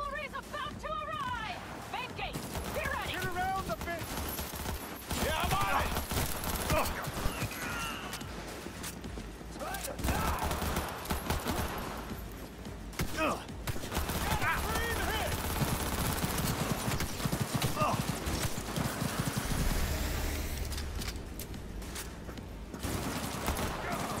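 Rapid bursts of gunfire in the video game Cyberpunk 2077, dense and continuous volleys with footsteps mixed in, loud and near, with a person talking over the shooting.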